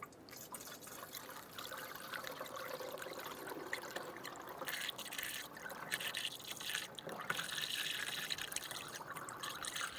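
Coolant pouring from a funnel into the radiator reservoir of a 2008-2012 Honda Accord, a steady liquid trickle and dribble running for several seconds at moderate level, with no talking.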